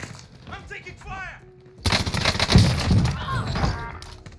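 Call of Duty Cold War Warzone gunfire bursts into a loud, dense crackle of shots and impacts that fills the second half, after faint voice-like chatter at the start.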